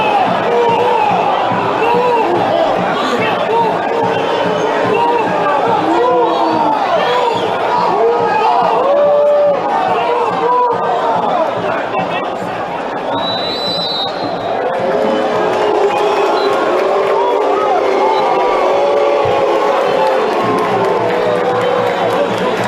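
Flamengo supporters packed into a stadium after a 2-1 win over Audax, a dense roaring crowd with jeers and chant-like swells that stay loud and continuous throughout, with a brief high whistle midway.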